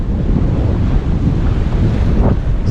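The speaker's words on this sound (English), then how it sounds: "Wow, that's about like 8-foot waves." Ocean waves surge during kiteboarding in extreme wind, a loud, continuous roar of surf mixed with heavy wind buffeting the microphone, with no voices.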